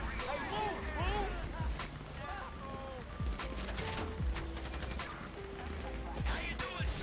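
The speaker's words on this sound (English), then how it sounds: "You hear that gunfire?" Bursts of gunfire and rattling automatic shots crackle amid Grand Theft Auto V game effects, with people shouting and talking over the fighting.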